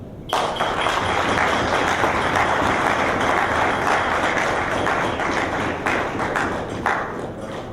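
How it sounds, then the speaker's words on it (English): After a keynote speech at a diaspora engagement conference, the audience breaks into loud, sustained applause that starts abruptly and continues as a dense, steady roar of clapping. "Another round of applause for Honorable Joe."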